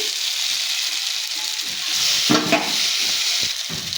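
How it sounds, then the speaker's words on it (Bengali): Potato, onion and spices fry in a pan with a steady broad sizzle, plus a brief louder burst of stirring or scraping midway, close up and with no voices. "আলু পেঁয়াজ মশলা খুব একসঙ্গে আমি ভালো করে কষিয়ে নিয়েছি"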